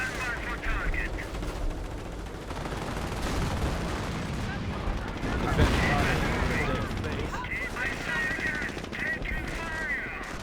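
Continuous dense gunfire and explosions from the Company of Heroes 1 strategy game, rattling machine-gun bursts and booms layered into a steady battle din, with a commentator talking over it throughout.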